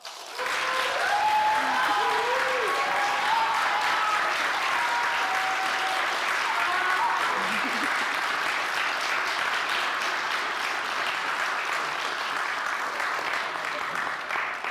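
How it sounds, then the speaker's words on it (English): A church congregation applauds a group of bridging teens at a Unitarian Universalist ceremony, a steady full-room clapping that swells in at once and holds evenly for the whole stretch, with a voice briefly speaking under it at the start. "let's give our 2025 Bridging Teens a round of applause."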